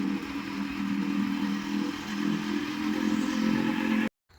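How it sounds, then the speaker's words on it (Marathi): A motorcycle being ridden gives a steady, moderately loud engine drone with road rumble that holds for about four seconds before cutting off abruptly. "खूप दिवसाने बाईक काढली, म्हणजे झाले 2 दिवस"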